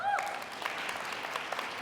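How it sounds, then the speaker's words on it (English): Steady audience applause at a defence technology conference keynote, a full crowd clapping continuously for a couple of seconds. "So please give them a great round of applause"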